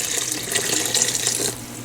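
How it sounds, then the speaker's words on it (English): Tap water pours steadily into a pot of flowers being readied for flower jelly, a continuous close splashing rush with no voices. "we're going to just put enough water in here to cover the top of the flowers."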